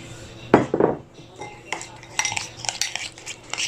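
A utensil stirs an olive oil rub in a bowl for baked pork ribs, giving a couple of loud scraping knocks followed by lighter, irregular clinks against the bowl. No one speaks.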